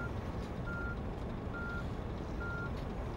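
A truck in the driving game On The Road gives off a steady series of reversing beeps, one evenly spaced tone after another, over a loud, constant engine rumble.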